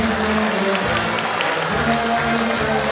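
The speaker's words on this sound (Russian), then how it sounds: "Бурными аплодисментами зал встретил последний звонок" An audience fills a hall with sustained, dense applause at a school last-bell ceremony, steady throughout with crowd murmur and a low tonal hum underneath.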